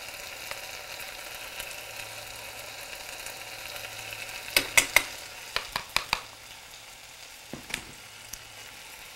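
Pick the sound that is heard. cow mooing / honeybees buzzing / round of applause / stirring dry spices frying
stirring dry spices frying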